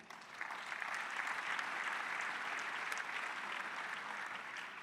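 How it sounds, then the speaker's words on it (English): A full audience round of applause rolls on steadily, a continuous even wash of many hands clapping at a moderate distance, with no break from start to finish. "I think we should give a round of applause to Rwanda."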